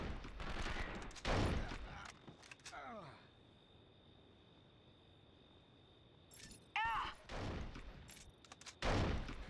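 Bursts of gunfire in the video game 24: The Game, loud, clustered volleys at the start, middle and end of the clip, separated by quieter stretches with a steady background tone.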